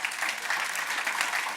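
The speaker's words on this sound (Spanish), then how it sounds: "Denle ese fuerte aplauso al Señor." A church congregation claps steadily and loudly, a dense continuous patter of applause filling the room throughout.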